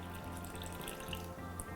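Water is poured into a semolina and yogurt batter for rava uttapam, giving a steady, close trickle and splashing with faint dripping, continuous for under two seconds.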